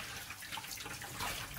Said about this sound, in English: now comes the part where we're going to give this a bit of a rinse off with some warm water